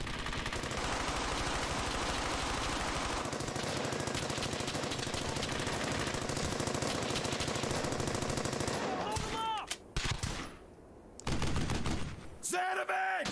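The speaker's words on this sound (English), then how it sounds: "they're gonna get wrecked by that MG" Sustained machine gun fire in the video game Brothers in Arms: Hell's Highway, a dense, loud, continuous rattle of rapid shots that breaks into shorter bursts near the end, with voices talking over it.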